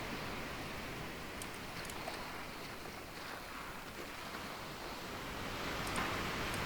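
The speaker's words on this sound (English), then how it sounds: "Big old ocean waves." Big ocean waves roll and wash steadily in the sailing game Sailwind, a continuous broad surf roar at low level with no talk.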